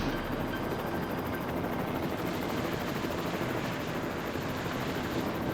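A rescue helicopter hovering during an air rescue after a motocross crash, a loud, steady rotor roar with rapid chopping pulses filling the whole stretch without pause.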